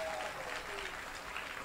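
An audience at a taiko drumming competition applauds, a steady wash of clapping from a crowd, moderately distant and alone.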